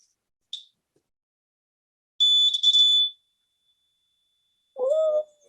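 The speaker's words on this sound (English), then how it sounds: "So that's a buzzer. Just makes a buzzing sound." A piercing, high electronic buzzer screeches in a short burst, then a longer loud screech, followed by a brief lower squeal.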